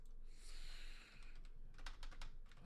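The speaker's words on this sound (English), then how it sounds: "Why do I keep typing that?" Clicks and taps of typing on a computer keyboard, a brief flurry of close, quiet keystrokes with a denser burst toward the end, over low background hiss and no talk.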